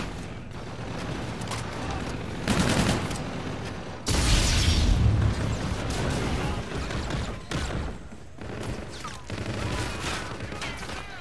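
Gunfire in the video game Call of Duty Infinite Warfare: bursts of rapid shots and heavy booming impacts come in several loud clusters over dense game noise, with a voice speaking in places.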